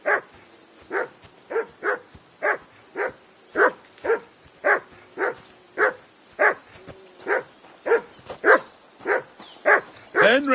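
A dog in the medieval video game Kingdom Come: Deliverance 2 barks in a steady run of about twenty sharp, evenly spaced barks, loud and close, with a faint voice beneath.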